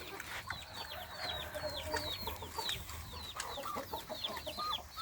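A flock of chickens clucking and chirping busily, many overlapping calls in an irregular stream over a noisy outdoor background.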